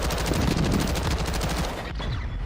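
Sustained, rapid machine gun fire in a video game, a dense, loud stream of shots with a brief dip near the end before it resumes.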